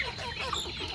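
Village chickens cluck in a short, close burst of soft calls over a faint background.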